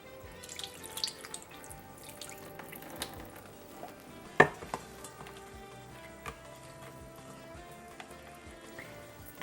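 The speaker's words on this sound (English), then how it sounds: "And pour off some of that liquid." Liquid poured off from a tofu press during homemade tofu making, a soft running trickle of water with small splashes and drips, close and quiet.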